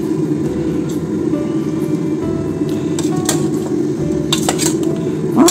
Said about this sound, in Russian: Можно еще взять ложкой это дело помешать, короче, чтобы картошечка